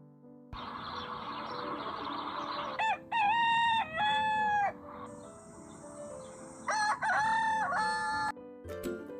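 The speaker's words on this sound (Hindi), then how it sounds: "ये है मुर्गा, जिसे हम इंग्लिश में बोलते हैं रोस्टर।" A rooster crows loudly and close by, two long drawn-out calls with rising and falling pitch, separated by a pause and set over steady background noise.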